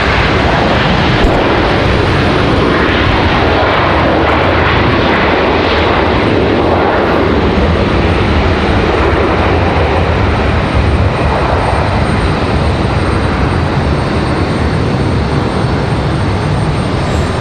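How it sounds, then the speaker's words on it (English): An American Airlines Boeing 777 roars close and loud at Raleigh-Durham airport, a dense, sustained jet engine rush that stays powerful throughout with no voices. "The American 777 here."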